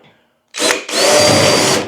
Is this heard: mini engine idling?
no